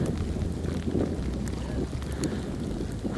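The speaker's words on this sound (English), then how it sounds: "it's windy outside" Steady winter wind rumbles and buffets outdoors during a snowstorm, a continuous low roar with gusty bursts throughout and no clear talk.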